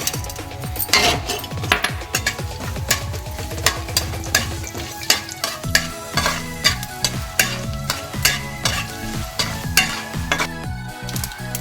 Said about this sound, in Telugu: కొద్దిగా ఆయిల్ వేసాం అది వేడి ఎక్కింది ఇప్పుడు దీనిలో తాలింపు వేసుకోవాలి